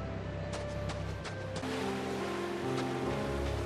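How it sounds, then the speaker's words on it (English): Continuous ocean surf washes at Costa del Sol in Final Fantasy 7 Rebirth, a broad steady rush of waves mixed with faint game ambience and tones. "stare at the ocean, listen to the waves"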